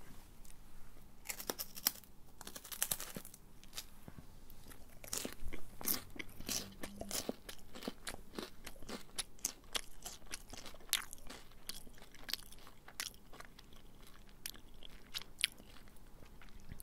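Crisp bites and crunchy chewing of a dry milk chocolate wafer, close to the mic, with repeated sharp cracks and crackling crunches in an irregular rhythm, no talking.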